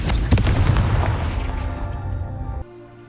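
The Confringo spell in Hogwarts Legacy bursts in a loud, close explosion with a deep rumbling boom that rolls on for a couple of seconds before cutting off abruptly.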